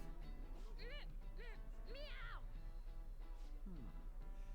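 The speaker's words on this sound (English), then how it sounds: "Did I just hear a cat just now?" A few short, rising-and-falling cat meows in the Persona 5 Royal video game, faint and set over a steady low hum with people talking in the background.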